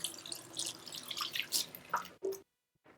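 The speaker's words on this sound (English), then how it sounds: "now I'm gonna wash my hands" Hands are washed under a running kitchen tap while burgers are being made: close splashing water with a few wet rubbing and squishing sounds, then a short pause and a faint final drip.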